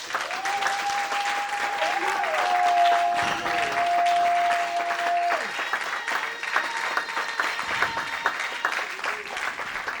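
Audience at a Christian gathering breaks into sustained applause and acclamation, a steady wash of clapping with a held musical tone underneath.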